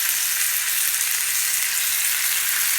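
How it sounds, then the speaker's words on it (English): Pork chops fry in a grill pan over medium heat, giving a steady, close, continuous sizzle with fine crackling and no voices. "There we are, nicely frying away."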